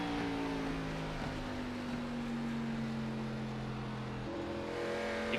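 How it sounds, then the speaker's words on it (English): Steady engine drone of Xfinity Series race cars in the iRacing video game at New Hampshire Motor Speedway, sustained and fairly loud, with a pitch that shifts slightly as the bogged-down motors strain. "You can hear just how bogged down these cars get"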